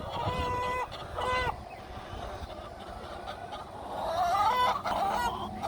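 Several chickens cluck and squawk close by, a busy overlapping chatter of hens with a few louder, drawn-out calls toward the end.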